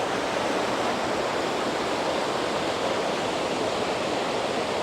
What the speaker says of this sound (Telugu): ఇది కూడా బాగా పవర్ఫుల్ ఉంది వాటర్ ఫాల్.